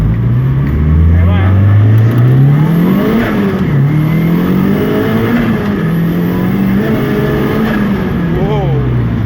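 Datsun 510 fitted with an S15 SR20 engine accelerates hard on the road, its loud engine note rising and falling through several pulls and gear changes, heard close from inside the car.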